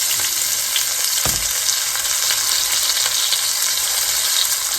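Turkey wings sizzle and fry in grease in an old, well-worn pot, a steady close crackling hiss with a brief low knock of the pot partway through.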